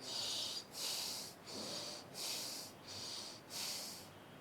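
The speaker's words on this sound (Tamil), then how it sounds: "நல்லா மூச்சை உள்ளெழுத்து மூச்சை வெளியே விடுங்க ஒரு 3 முறை." Six slow, deep breaths during a yoga session, each a soft, airy hiss of inhale or exhale lasting about half a second, separated by brief pauses, close and quiet with no talking.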